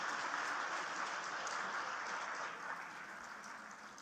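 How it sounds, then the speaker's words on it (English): An audience applauds at a university convocation ceremony at IIHMR University, a fairly faint, even wash of many hands clapping that slowly fades slightly toward the end. "So give him a big round of applause."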